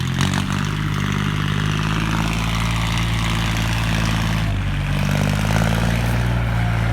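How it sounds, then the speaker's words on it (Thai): Powerful farm tractor engine running steadily and loud up close, a dense droning rumble with a constant low throbbing note and no pauses. "รถไถแรงมากเลยครับ"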